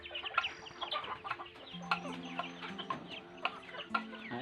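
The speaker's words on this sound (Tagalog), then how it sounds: "Native free range chicken." Native free-range chickens in a backyard homestead cluck close by, with several short, overlapping clucks and calls repeating steadily.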